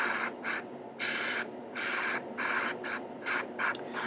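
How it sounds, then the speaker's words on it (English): Spray-can undercoat misted onto a miniature figure in bursts of about half a second to a second, each a close, loud hiss separated by brief pauses, with no talking. "So while I'm undercoating the miniature"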